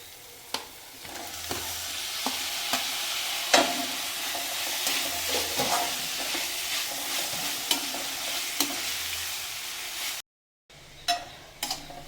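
Onions, tomato and green chilli sizzling in a hot pan while a spoon stirs and scrapes, with soft clacks at intervals over a steady fry and a brief drop-out near the end.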